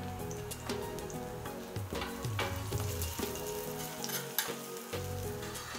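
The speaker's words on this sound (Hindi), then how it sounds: "तो इसी तरह से सारी टिक्कियों को फ्लिप करके पकाते जाइए, जैसा कलर आपको चाहिए।" Aloo tikki potato patties frying in a pan as they are flipped and cooked to golden brown, a loud, close, continuous sizzle with crackling pops and the occasional tap or scrape of a spatula, without speech.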